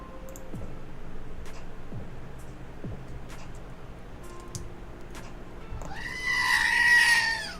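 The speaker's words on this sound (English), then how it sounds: "Give us some free screaming goat." A goat lets out one loud, harsh scream near the end, after a stretch of scattered ticks and clicks.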